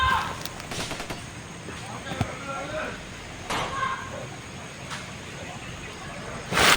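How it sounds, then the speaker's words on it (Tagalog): Sporadic distant gunshots in a video game, a handful of sharp cracks scattered over several seconds beneath background game ambience, with a louder burst at the end. "Ay, putukan ako ng rinig mga tol."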